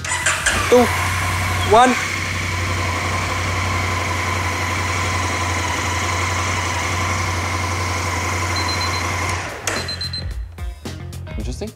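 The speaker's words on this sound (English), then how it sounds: "We are going to be turning the engine on" A vehicle engine turns over and settles into a steady, droning idle that runs loud and continuous after a brief start, with a person counting down over the beginning and the engine cutting off near the end.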